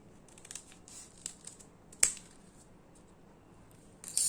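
Scissors snipping a V-shaped leaf from paper for a paper flower, light crisp cuts scattered across a quiet room, one sharper snip in the middle and another near the end.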